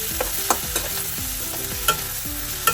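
Chopped jackfruit frying in oil in a pan while a spoon stirs it, a close, continuous sizzle broken by a few sharp scraping knocks of the utensil against the pan.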